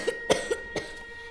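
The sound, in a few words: cough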